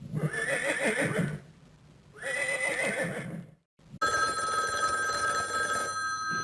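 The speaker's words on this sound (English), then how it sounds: "Horse." Horse neighing in two loud, drawn-out whinnies separated by a short pause, followed by a steady ringing telephone bell that runs to the end.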